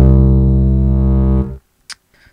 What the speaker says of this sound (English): Now the sub-bass I've chosen sounds like this.